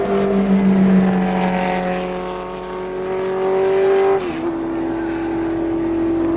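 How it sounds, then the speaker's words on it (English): A 1969 Matra Ford Cosworth Formula 1 car at the British Grand Prix screams past with a loud, high-revving engine note that holds, then drops in pitch abruptly as it moves away, under crowd and track ambience. "Another win for Jackie Stewart and the Tyrrell team with the French Matra and the British Ford Cosworth engine."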